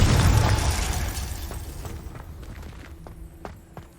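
A Confringo fire spell in Hogwarts Legacy lands as a loud booming blast that rumbles and fades over a few seconds, followed by scattered faint clicks and debris-like taps.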